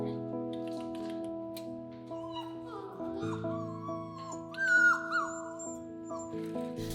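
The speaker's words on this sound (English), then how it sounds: "the loud puppies that you hear" Puppies whimper and yip in a vet barn alongside other small animals, with thin high whines rising over steady tonal background sound and a voice talking.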